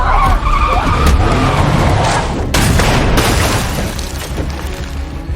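Car tyres screech in a long, loud skid that runs under a dense, roaring crash of impacts and rumble, ending with the vehicle plunging into a swamp in an action film chase.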